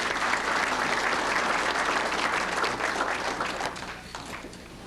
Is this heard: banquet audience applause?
yes